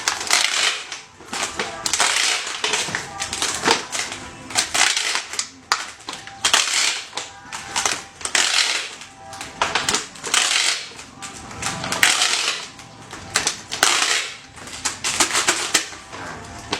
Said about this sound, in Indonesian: Sambil ditarik lakbannya kuat.